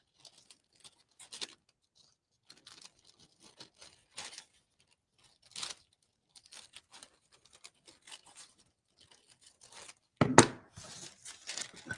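Decoupage napkin paper being trimmed for a Christmas lantern craft: soft, sparse snips and light paper crinkles close by, with one louder, sharper rustle near the end and quiet pauses between.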